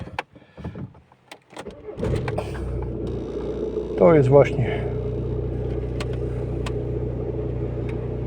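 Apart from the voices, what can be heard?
car engine starting and running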